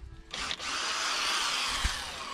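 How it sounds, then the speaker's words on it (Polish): A cordless screwdriver whirs steadily for about two seconds with a close, even motor drone, in a shed-building workshop setting, with a faint knock near the end. "Wkrętarka."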